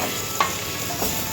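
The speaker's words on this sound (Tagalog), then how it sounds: "Magsangag tayo, bawang lang to." Garlic sizzles in hot oil while being sautéed for fried rice, a steady soft crackling hiss with a brief stirring scrape, close up and without talk.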